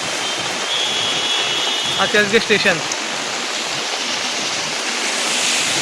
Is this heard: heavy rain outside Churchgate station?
yes